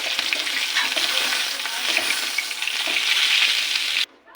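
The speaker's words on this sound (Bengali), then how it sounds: "কড়া করে ভেজে নিয়েছি, এই মাছগুলো ভাজা হয়ে গেছে" Tilapia pieces fried crisp in oil give a loud, continuous close sizzle with bubbling crackle, cutting off abruptly near the end.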